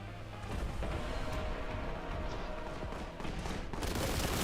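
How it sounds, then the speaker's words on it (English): Quake cannon fire in the Warhammer Boltgun shooter game: a dense, continuous rumble of heavy weapon blasts with bursts of gunfire, moderately loud and steady throughout. "That's a Quake cannon. I think it needs to be louder."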